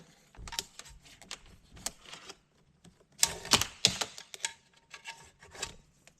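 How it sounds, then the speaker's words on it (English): Thick, strong Shindaiwa trimmer line is pulled from an opened weed wacker spool, giving close rasping, rubbing and clicking bursts in uneven spurts with short pauses. "Let's go ahead and pull out some wire."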